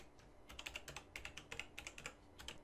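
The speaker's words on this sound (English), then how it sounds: "And now you can just type in your text." Someone types text on a computer keyboard during a Photoshop lesson, with a quick irregular run of soft, close key clicks and no talking.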